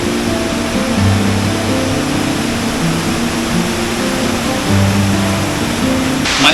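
Water rushes at Aruvikkara dam in a loud, continuous roar with a faint low hum, unbroken and with no talk.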